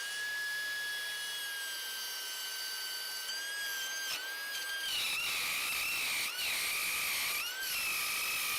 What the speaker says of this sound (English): it looks like I got to do a little bit of cutting with the router